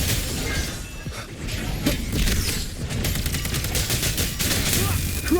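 Crushing Shot attack in the video game Wuthering Waves, a dense barrage of rapid shots and impacts sustained throughout, loud and continuous under game music and effects.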